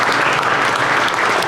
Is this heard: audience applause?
yes